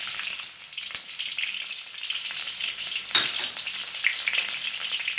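Onion sizzles and fries in a pan with oil for vegetable mihoon, a steady bright crackle close by with a few sharp stirring clatters of the utensil against the pan.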